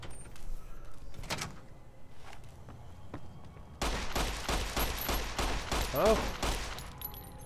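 Enemy gunfire in Fallout New Vegas rings out as a burst of rapid shots, then a longer run of repeated loud reports, with a brief exclaimed voice over the shooting.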